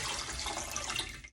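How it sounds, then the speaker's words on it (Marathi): Water poured into a steel pot, a short burst of splashing, gurgling flow heard close and fairly quiet, tapering off at the end. "पाणी घालूया."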